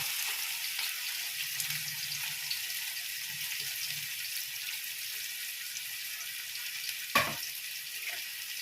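Sliced onions fry in hot oil for chicken biryani, making a soft continuous sizzle with faint low bubbling and one brief clatter near the end, no one speaking.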